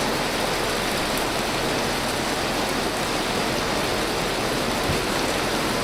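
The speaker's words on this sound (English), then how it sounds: "The hail is so loud." Hail falls hard and steadily, a dense, loud hiss of pelting ice that stays constant and fills the whole stretch without pause or voices.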